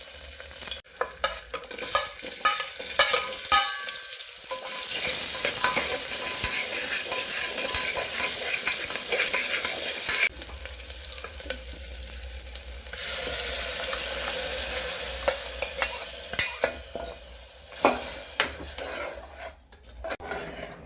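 Mustard seeds, chopped onion and dried chillies sizzle and crackle in a hot pan during village-style cooking, with steady stirring and scraping throughout and occasional clinks of the utensil.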